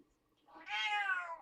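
A cat lets out a single close, drawn-out meow indoors, rising and then falling in pitch, after a near-silent pause with nothing else around it.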